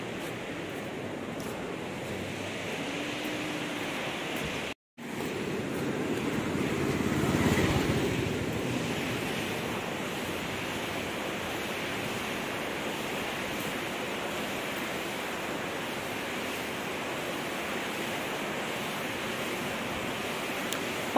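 The Sutlej river rushes past in light rain, a broad, continuous roar of flowing water that stays loud and even throughout, broken only by a momentary cut near the start.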